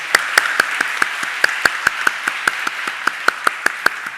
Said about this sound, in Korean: 이 마지막 예배를 주님께 우리 감사와 찬양의 박수로 영광 돌렸으면 좋겠습니다.